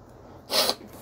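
A person blows their nose once during allergy season, a single short, close, forceful nasal honk of about a quarter second against a quiet room.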